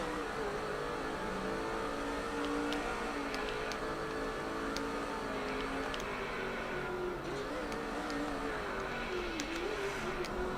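Race car engines in NASCAR 06 whine steadily at high revs on the Infineon road course, pitching up and down with gear changes as cars pass, loud and continuous for the whole stretch.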